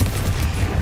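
A Confringo blast spell in Hogwarts Legacy erupts as a brief, rumbling explosive burst with a crackling, fusillade-like texture, fairly close and without talk.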